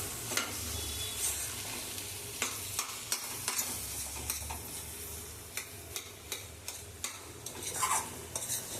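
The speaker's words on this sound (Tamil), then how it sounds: "இப்போ நம்ம கொஞ்சம் இதை உடச்சி விட்டுக்கலாம்." Boiled eggs being broken up with a spoon in a pan of spicy South Indian egg gravy (mutta thokku), with a steady sizzle under scattered clinks and scrapes of the utensil against the pan.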